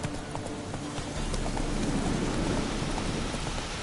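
Roach the horse from The Witcher 3 gallops through a rainstorm, a steady rhythmic clip-clop of hooves under dense, continuous rain hiss with a low rumble beneath.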